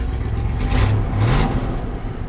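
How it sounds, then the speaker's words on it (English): A 1970 Chevrolet C20 pickup engine running close by, a steady loud rumble that swells briefly twice as the revs rise, then settles back toward idle, with no talking. "the motor idles off great"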